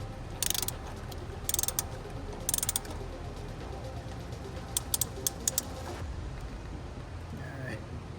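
Ratchet wrench cranking down the mounting bolt on an air horn fitted to a Spyder RT, in several quick bursts of clicking pawl strokes up close, followed by a few sharp single clicks over steady background noise.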